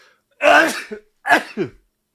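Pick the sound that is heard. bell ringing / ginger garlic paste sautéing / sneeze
sneeze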